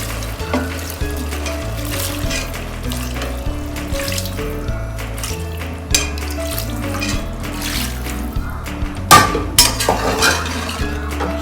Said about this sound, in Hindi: देखिए हम इतना पानी डाल रहे हैं।